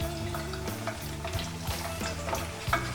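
Pieces of meat frying in hot oil for an abula stew give a steady, close sizzle, with stirring scrapes and soft clinks across the pan.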